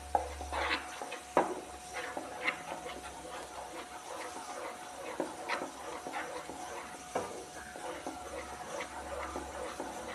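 Papaya jam cooks in a pan while a spoon stirs it, giving faint scraping and soft clinking knocks scattered over a quiet bubbling hiss, with a few sharper taps at irregular moments.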